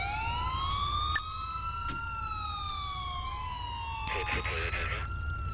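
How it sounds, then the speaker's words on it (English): Wailing police car siren in the video game GTA 4, sweeping up and down in pitch, with short bursts of a rapid yelp pattern and a low engine rumble underneath. "I'm gonna get my sirens shut off here"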